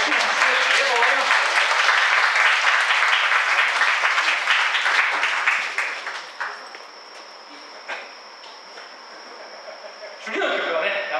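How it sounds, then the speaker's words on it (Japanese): Loud audience applause at an outdoor live jazz band concert at an art festival stage, dense clapping for about six seconds that then fades, with a burst of clapping returning near the end. "大きな拍手ありがとうございます"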